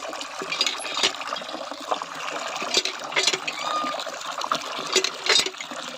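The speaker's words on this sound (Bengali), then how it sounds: "এখানে দেখো আমি গরুকে জল দিচ্ছি" Water mixed with salt is poured into a container for a cow, producing irregular splashing and gurgling pours with small knocks and clatters, close and fairly loud, with no speech.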